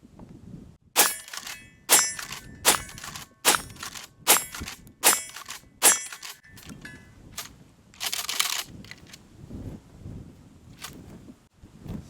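A Remington 870 pump shotgun fired rapidly with mixed target ammo and slugs, giving about eight sharp, evenly spaced reports in quick succession, each followed by brief mechanical clatter, then a short noisy burst and quieter handling sounds.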